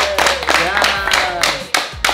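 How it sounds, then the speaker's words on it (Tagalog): A few rhythmic hand claps ring out close by, mixed with excited talking and laughter from people in the room. "Palakpak muna naman."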